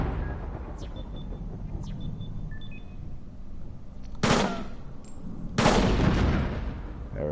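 Gunfire in a video game as targets are shot, with two loud broadband blasts a second or so apart standing out over steady game background noise and a few short electronic beeps.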